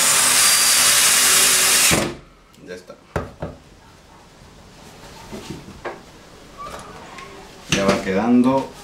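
A power drill driving screws into a bathroom cabinet whirs loudly for about two seconds, then stops, followed by scattered clicks and knocks of handling the wood as a voice speaks.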